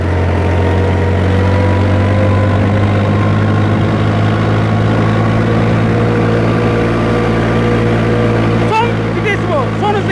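A yellow 1981 or 1982 Fiat 480 tractor runs in third gear at a steady, loud, low diesel drone while hauling sheep manure to an orchard. The engine note stays unbroken throughout, with a brief rattle near the end and no speech.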